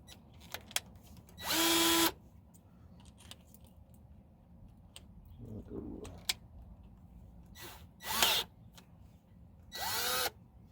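A power drill drives self-tapping screws into a RangeRunner trailer tongue box in three short, loud whirring bursts separated by quiet pauses, with faint clicks and handling noise in between.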